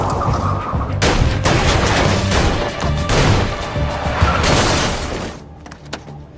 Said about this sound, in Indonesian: tembakan James berhasil membuat mobil mereka menabrak penghalang jalan.